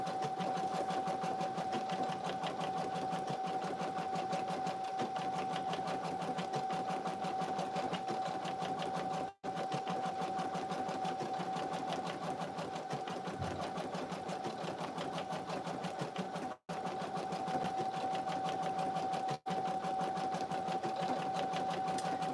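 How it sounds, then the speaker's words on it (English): An embroidery sewing machine stitches on vinyl at slow speed, a steady close mechanical whir with a fine rapid needle pulse and a faint constant tone, running on alone with a few brief gaps. "it's going slow because I'm sewing on vinyl"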